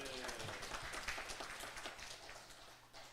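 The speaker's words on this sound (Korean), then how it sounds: "주님을 박수로 영광 돌리겠습니다." Steady applause from a church congregation during a Sunday service, a dense wash of clapping that holds throughout and swells slightly before easing near the end.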